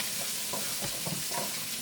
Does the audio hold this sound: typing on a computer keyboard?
no